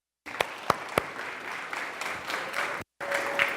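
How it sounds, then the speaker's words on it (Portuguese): A church congregation claps in praise, with a few sharp early claps swelling into steady applause that breaks off briefly and resumes. The sound is moderately close and carries no speech. "Quantos podem dar mais um aplauso ao Senhor?"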